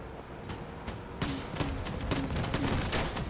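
Revolver shots ring out in a multiplayer video game, a series of sharp cracks roughly every half second, growing louder and more regular in the second half, with no talking.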